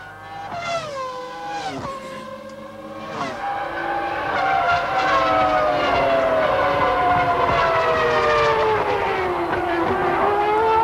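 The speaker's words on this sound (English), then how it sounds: "What an extraordinary machine a Formula One race car is." Formula One race cars at the 1996 Australian Grand Prix in Melbourne scream past one after another, with engine pitch rising and falling as they shift and brake, then a loud sustained howl close by.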